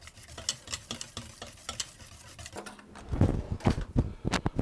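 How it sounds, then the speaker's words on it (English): Eggs being whisked into a Guinness cake batter of butter and stout, a steady run of quick scraping strokes that grows louder and more vigorous partway through, close up and alone. "just whisk those in"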